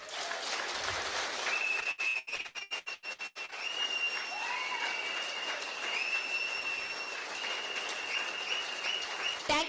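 An audience at a business leadership talk bursts into applause, with sharp claps followed by sustained clapping and a few shrill whistles over the crowd.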